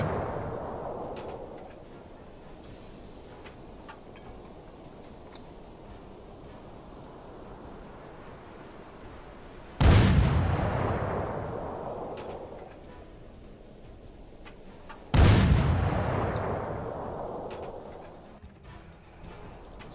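A U-boat deck gun firing at a ship in the naval game UBOAT, two heavy booming shots several seconds apart, each decaying slowly over a constant wash of sea and wind.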